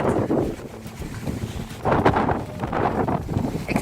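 Strong wind buffeting the microphone at the Falkenstein castle ruin in Austria, a constant loud rumbling roar that gusts and swells throughout.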